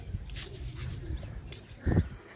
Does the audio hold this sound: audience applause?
no